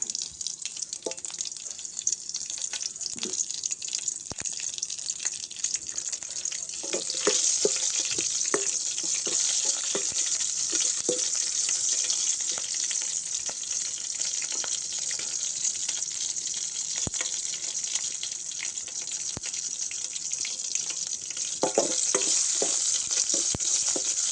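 Green chillies dropped into hot oil with spluttering mustard seeds, a bright crackling sizzle that holds steady close up, dotted with sharp pops and occasional stirring clicks.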